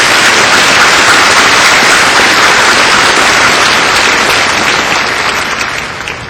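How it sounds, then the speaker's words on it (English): Sustained, loud applause from a large audience at a university commencement ceremony, a dense wash of clapping that fades slightly toward the end. "Let's give them a round of applause."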